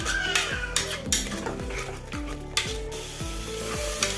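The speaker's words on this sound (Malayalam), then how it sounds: "ഒരു ടേബിൾ സ്പൂൺ നെയ്യും കൂടി ചേർത്ത് കൊടുക്കാം എന്നിട്ട് നല്ലപോലെ ഒന്ന് മിക്സ് ചെയ്യാം" A spoon stirs carrot halwa with ghee and cardamom in a pan, producing repeated rhythmic scrapes and knocks against the metal about every half second over a soft sizzle.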